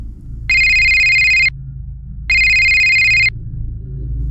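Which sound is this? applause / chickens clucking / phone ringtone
phone ringtone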